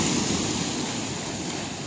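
Waves at Yarada Beach in Vizag, a steady, broad roar of surf washing in close by, continuous and fairly loud with no voices.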